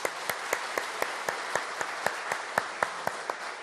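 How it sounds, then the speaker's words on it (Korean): A church congregation claps during a Parents' Day service, giving slow, evenly spaced unison claps at a steady rhythm, fairly quiet, with no talking over them. "우리 모두 등마루의 모든 우리 부모님께 드리는 큰 박수로 우리 하나님께 영광 올려드리겠습니다"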